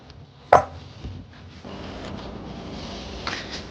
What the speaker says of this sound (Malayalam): ആ സമയത്ത് ഞാൻ കുറച്ച് ഉള്ളിയൊക്കെ അരിയാൻ പോവാം